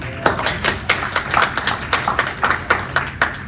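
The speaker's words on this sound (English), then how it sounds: "Don't you think that deserves a round of applause?" Rhythmic, fairly close hand clapping at a virtual town hall, a few hands beating in a regular pulse rather than a large crowd.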